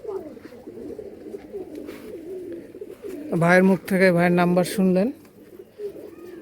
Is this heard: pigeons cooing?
yes